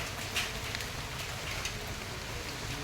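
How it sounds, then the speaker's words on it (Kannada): Steady rain hisses continuously, a soft even patter with no other sounds standing out, moderately faint. "ಮಳೆ ಬೀಳ್ತಾ ಉಂಟು ನೋಡಿ"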